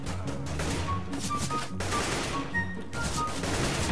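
Rapid automatic gunfire from the video game CS:GO rattles in dense close bursts, with short gaps between volleys, loud and continuous.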